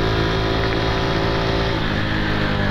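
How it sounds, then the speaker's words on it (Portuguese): A Honda Pop 110 motorcycle engine runs loud and close while the rider shifts gears on a scenic road, its steady drone dipping slightly near the end as the revs change. "aqui vai trocando marcha"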